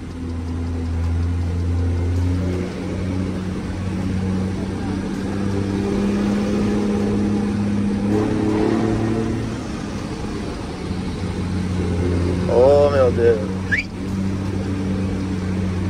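A car engine idles with a steady low hum that swells briefly as it revs around the middle, heard up close. Light speech-like sounds and a short tonal chirp come near the end.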